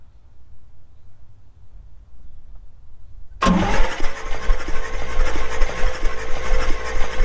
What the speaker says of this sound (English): let's go ahead and hit it with the starter and see what happens